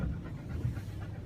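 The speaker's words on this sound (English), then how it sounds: "stop panting, okay?" A dog pants close to the microphone in quick, rhythmic breaths during a thunderstorm, soft and steady, with no talk.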